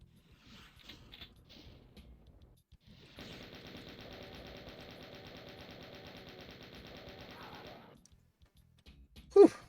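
A chain gun fires in the classic shooter Doom as a steady rapid mechanical stream of shots lasting about five seconds at moderate level, with faint sounds before it and a sharp sound at the end.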